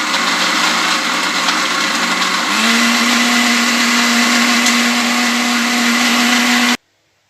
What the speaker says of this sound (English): So I want to blend the crayfish and the dry fish, then the Scotch bonnet pepper first.